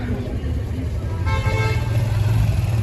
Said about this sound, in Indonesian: Oh, macet.